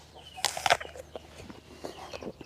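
Chickens clucking nearby in short, irregular bursts, loudest early on and then trailing into softer scattered clucks.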